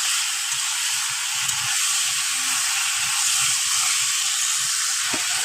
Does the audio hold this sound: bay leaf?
yes